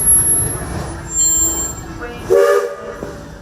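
A Magic Kingdom train rumbles along with rail noise and a short squeal, heard from on board alongside a brief spoken word.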